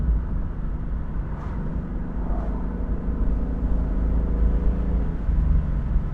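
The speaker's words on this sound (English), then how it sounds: "Naturally aspirated 5-liter V8." A 2021 Ford Mustang GT convertible with a manual gearbox and a naturally aspirated 5-liter V8, giving a steady low engine drone and rumble from inside the car on a twisty road, with no one speaking.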